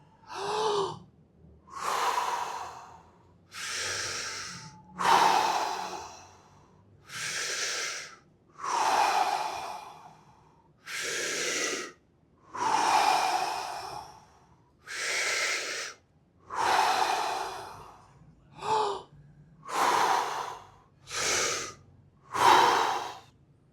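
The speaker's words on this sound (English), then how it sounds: "Big inhales, big exhales, deep into your stomach and diaphragm." Deep breathing during a tai chi flow, a steady series of about fourteen big, slow inhales and exhales, each a loud, close, airy rush with short pauses between, no talking.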